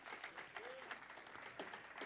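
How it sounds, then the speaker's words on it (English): Audience applause at a student game showcase, a continuous patter of many hands clapping at moderate volume, steady across the whole moment with faint voices mixed in. "So now, Rich Rowan, give him a round of applause"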